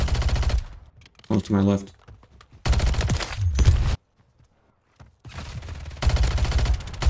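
SMG gunfire in Modern Warfare 3 free-for-all gameplay: rapid automatic bursts in a few separate volleys, close and loud, with someone talking between them and a brief silent gap mid-clip.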